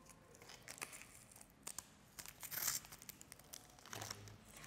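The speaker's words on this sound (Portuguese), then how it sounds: "você vai envolvendo com a fita" Tape and leaves crinkling as leaves are wrapped onto a twig to make a leaf brush, with irregular close, quiet rustles and crackles and a tearing scrape near the end.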